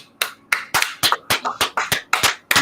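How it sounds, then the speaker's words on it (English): A single pair of hands claps in an uneven rhythm, about ten sharp near claps in under three seconds, with no talking. "Give yourself a round of applause."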